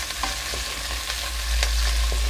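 Chopped onion frying in hot oil with cumin while a spoon stirs it, a steady sizzle broken by repeated scraping strokes, close and fairly loud, swelling toward the end.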